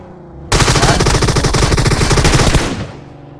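Loud, rapid machine gun fire from a video game firefight, a sustained burst of close, rattling shots lasting about two seconds after an abrupt start, then cutting off.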